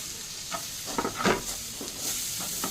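Two medium ripe tomatoes, chopped, land in a hot pan for a prawn dish and sizzle with a soft steady hiss while a spoon stirs through them in a few brief scrapes, close up, no voices.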